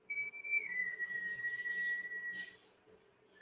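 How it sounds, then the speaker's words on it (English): A person whistles a single long, steady tone in the background, slightly falling in pitch and held for about two and a half seconds, fairly faint over a quiet room hum. "Somebody's whistling in the background."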